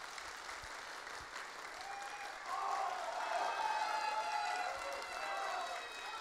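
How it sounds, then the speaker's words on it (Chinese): An audience applauds to welcome performers at a Qinqiang opera show held at a university venue, the clapping rising midway into a fuller, sustained ovation heard from within the crowd. "让我们再次用热烈的掌声欢迎他们"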